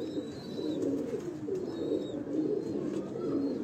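Pigeons coo softly and steadily on a rooftop loft, a low repeated warbling purr close by, with faint higher chirps now and then and no talk.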